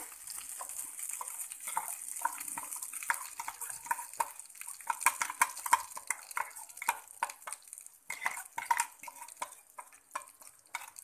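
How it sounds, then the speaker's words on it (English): Coconut chutney stirred into a hot tadka in a pan, a spoon scraping and clinking against the metal with soft wet sloshing, steady and close at low volume, no talk. "Now I am transferring my prepared coconut chutney to this tadka."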